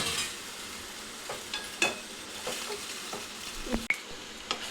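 Pasta stirred in a pan makes a low hiss of frying beneath repeated spatula scrapes and taps, close and fairly quiet with no talking.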